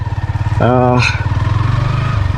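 A Yamaha XSR 155 motorcycle engine runs with a steady low throbbing rumble while riding through a forest, and a short burst of speech cuts in near the start.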